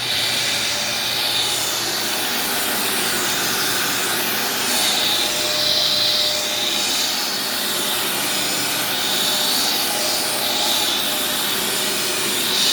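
An upright vacuum cleaner runs on normal carpet with its brush roll spinning, giving a loud, steady, jet-like roar that holds evenly throughout with no talking.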